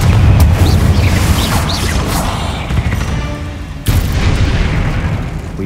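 A Confringo fire spell blasts spiders in Hogwarts Legacy, loud booming bursts with crackling debris, then a second sharp impact near the end, all close and dense.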